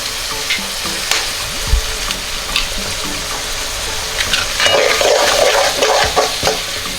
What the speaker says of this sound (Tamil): இந்த ஸ்டேஜில் நம்ம வந்து எக்கு பிரேக் பண்ணி விட்டுக்கலாம்.